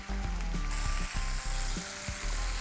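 Chopped meat sizzles and crackles steadily in a hot pan, with a wooden spoon clacking and stirring in short knocks throughout; no one speaks.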